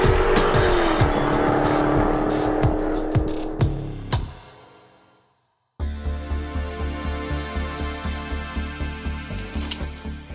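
Supercharged Jaguar F-Type V8 S launching hard with a brief tire squeal and loud engine roar, revs rising then cutting out to near silence, followed by a rhythmic pulsing engine as it accelerates again, close and loud.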